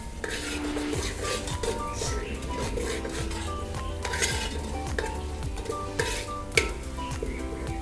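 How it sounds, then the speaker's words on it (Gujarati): Crushed green and red chillies sautéing in a pan, a steady close sizzle under continuous stirring and scraping, with occasional metallic clinks of the spoon against the pan. "હવે એને સારી રીતે સાતળી લેવાનું, એટલે કે હલાવી અને મિક્સ કરી નાખવાનું."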